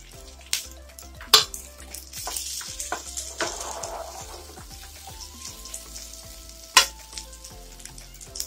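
Boiled potatoes and peanuts frying in a pan over lowered flame, a steady close sizzle broken by repeated scraping stirs and a few sharp utensil clacks against the pan, no voices.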